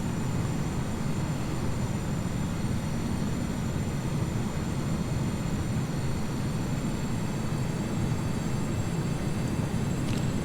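Cargo aircraft on approach with flaps set to 30, on a short route from Las Vegas to Elko, Nevada: a steady, loud broadband engine and airflow roar fills the cockpit with no break, plus a faint high whine over it.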